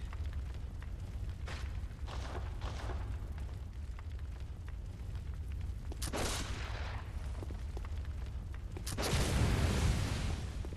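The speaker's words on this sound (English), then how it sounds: "I'll shoot a shoot. Hunter blunderbuss." Hunter Blunderbuss shots in Bloodborne, a series of loud booming scattergun blasts with sharp bursts around two, six and nine seconds, each trailing into a rumbling decay over steady low game ambience.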